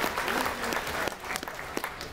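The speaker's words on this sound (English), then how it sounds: "Give yourselves a big round of applause for this." A crowd of theme park passholders at a Busch Gardens preview event claps steadily, with dense, sustained applause and a few scattered cheers, fairly close and loud throughout.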